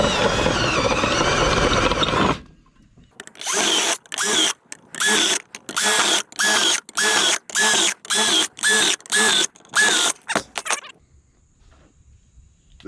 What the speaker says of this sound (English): and then we'll drill that out